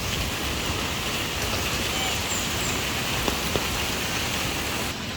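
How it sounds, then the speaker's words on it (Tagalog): Heavy rain pours steadily, a dense continuous hiss of drops with a few sharper patters standing out near the end. "kahit malakas yung ulan, gora pa rin."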